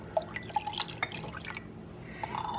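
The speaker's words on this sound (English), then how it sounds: "then you pour another half pint of cold water in there" Cold water poured into a bowl to make raspberry or strawberry jelly, heard as a series of small drips and splashes followed by a steady trickle, close by and fairly quiet, with no talking.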